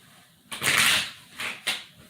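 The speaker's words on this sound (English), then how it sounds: "2 more shuffles." A deck of tarot cards being shuffled by hand, a few short riffling bursts close by in a quiet room, the first longer and the next two quick and separate.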